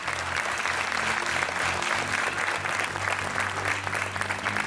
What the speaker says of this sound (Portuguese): Um aplauso para a Joana.